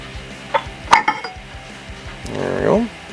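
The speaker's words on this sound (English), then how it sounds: "So we'll pull this cover off and get to an oil pump." A metal cover is pried and pulled off the oil pump of a 2002 Saturn SL1 engine, with light metallic clinks and taps of tools and parts, then a scraping slide as the cover comes free.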